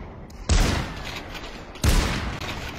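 Two sharp, loud volleys of gunfire in the battle-royale game Population: One, each a sudden close blast with a rapid decaying tail, spaced a little over a second apart.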